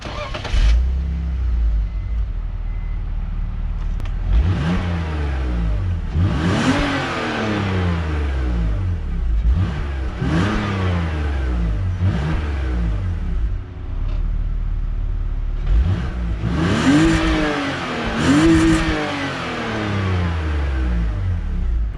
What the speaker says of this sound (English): I'm gonna start off by giving you guys a noise comparison of stock exhaust.